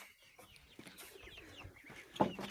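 Hens cluck and murmur softly in the background near ducks and young chicks, with a louder squawk near the end, against outdoor ambience.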